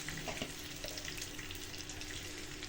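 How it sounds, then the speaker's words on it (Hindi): Gram flour roasting in desi ghee for besan halwa while a spoon keeps it moving: a soft, even sizzle with a few light scraping touches, quiet and steady throughout. "अब इसमें हमने इसको भूनना है अच्छे तरीके से अपने हलवे बेसन को, और आपने चम्मच चलाते रहना साथ साथ।"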